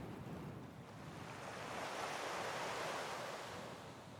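Ocean waves wash in a steady, broad roar of surf that swells slightly and then eases, with a breathy rush of wind over the water and no voices.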